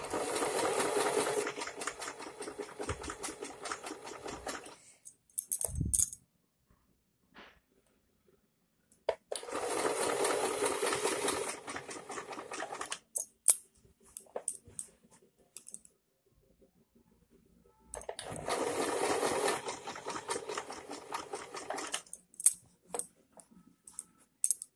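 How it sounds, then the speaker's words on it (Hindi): A sewing machine stitches suit fabric along a chalk marking in three long runs of fast, steady whirring, each separated by quiet pauses with scattered clicks of handling. "यहाँ पे स्टिच कर देना है। आपकी मार्किंग के ऊपर ही आपको स्टिच करना है"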